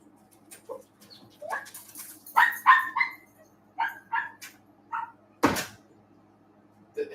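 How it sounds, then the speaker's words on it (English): A dog named Doodles lets out a string of about eight sharp, loud barks and yips close by in a quiet room, with short pauses between them. "likes to run out there and start barking"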